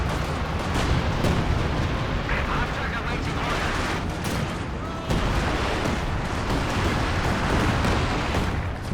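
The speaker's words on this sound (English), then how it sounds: "Targeting the mortar, but the rocket scatter results in almost 0 damage there" A Nebelwerfer rocket artillery barrage in the video game Company of Heroes 2 roars in a dense, continuous rumble of rocket launches and explosions, loud and sustained across the whole stretch.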